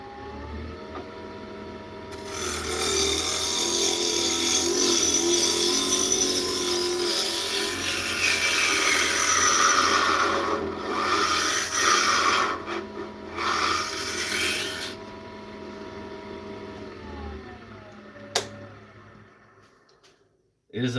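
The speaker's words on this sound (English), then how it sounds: "It is a functioning lathe." A working lathe in a home shop runs loudly with a harsh, continuous rasping and rubbing for about thirteen seconds, then the noise breaks up and winds down to near silence, followed by a sharp knock.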